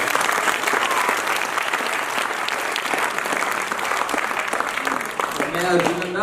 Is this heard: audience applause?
yes